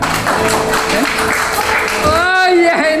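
Guests at an 80th birthday party applaud, a loud, continuous spread of clapping from a crowd, with voices and a tonal speaking voice rising over the clapping toward the end.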